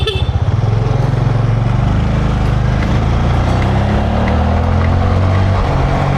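A motorcycle engine runs steadily and loud nearby on a road in Bani, Rosario, La Union, Philippines, a continuous droning putter with a slight rise in pitch, no talking heard.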